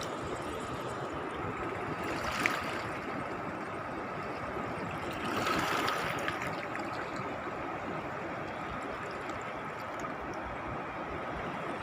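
The Chi River flows at a dam in Yasothon during the rainy season, a steady rushing wash of water that continues evenly throughout, with no voices.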